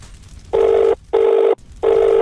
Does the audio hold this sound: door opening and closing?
no